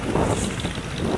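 A passenger launch on a river journey from Kolapara to Dhaka, its steady engine rumble and water rush mixed with wind buffeting the microphone, a continuous loud wash with no talk.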